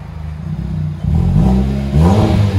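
A 2008 Kia Spectra EX with a muffler-delete exhaust revs in two rising pulls from a steady idle, giving a loud, close, deep exhaust tone with no rasp.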